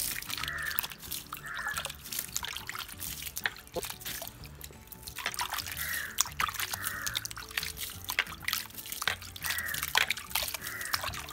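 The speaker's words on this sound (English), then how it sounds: "she sprinkled some water on them and kept them in shade to settle down for some time" Water sprinkled over freshly potted garden plants in Kerala, heard as soft, repeated splashing and dripping bursts at a steady, unhurried rhythm, close and fairly quiet, with no one speaking.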